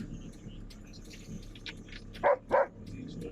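A dog barks twice in quick succession, short sharp calls standing out at moderate distance over a low outdoor background rumble.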